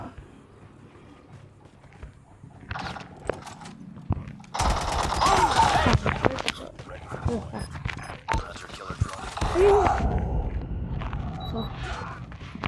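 Gunfire bursts from a shotgun in the mobile shooter game Call of Duty Mobile, a few sharp blasts and rattling shots amid game effects, with someone talking over much of it.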